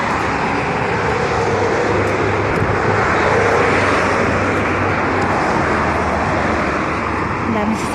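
Steady roar of busy road traffic with many cars passing close by, a continuous loud engine and tyre wash that never drops away, heard from the roadside while people walk nearby.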